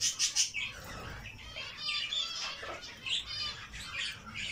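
Pairs of doves in a new aviary cage give close squawks and chirps in uneven bursts, with a brief flutter of wings.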